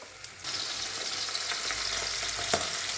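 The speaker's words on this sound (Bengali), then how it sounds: "কাঁঠালটা ততক্ষণ ভাজা হোক।" Jackfruit pieces frying in hot oil in a home kitchen, a steady dense sizzle throughout with a brief sharp crackle near the end, close and fairly loud with no talking.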